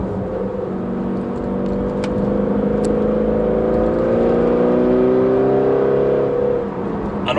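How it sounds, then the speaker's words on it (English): Tuned 750 bhp Audi RS6 with an Akrapovic exhaust accelerating, its engine rising in pitch in a long continuous pull heard from inside the car, with a couple of faint clicks. "And all that extra noise from that Akrapovic exhaust"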